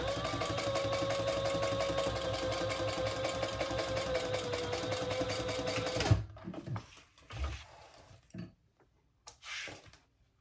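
A sewing machine top-stitches a seam in a steady, ticking run lasting about six seconds, then stops, followed by scattered handling thumps and rustles.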